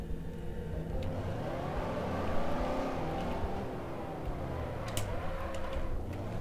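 A car engine in the video game Garry's Mod, a steady droning motor that rises and falls in pitch across the clip, with faint ticks and clicks on top.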